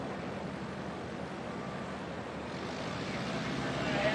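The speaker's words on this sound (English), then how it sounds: "Full stall 3-point landing. Retract the flaps and lock them up." A STOL aircraft at an air race competition touching down in a full stall three-point landing, heard as a steady loud broadband engine and wind roar that swells slightly toward the end.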